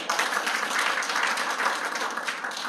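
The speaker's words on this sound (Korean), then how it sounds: "큰 박수로 환영해주시기 바랍니다." An audience at a media policy event claps steadily to welcome guests, a dense, even round of applause that fills the room throughout.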